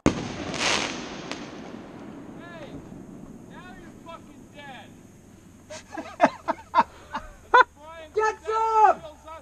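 At a Vietnam battle reenactment, a sharp pyrotechnic blast bursts from a tube at the start, followed by quieter outdoor noise and wind, then excited shouting and whooping voices.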